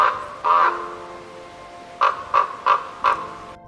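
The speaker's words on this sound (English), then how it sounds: "C for crow." A crow caws alone outdoors: one harsh caw, a pause, then four quick caws in a steady run, clear and fairly close.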